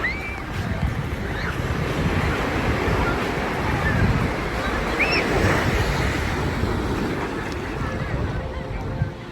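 Sea waves wash continuously onto a Tenerife beach while wind buffets the microphone, a loud, steady surf roar with occasional faint distant cries.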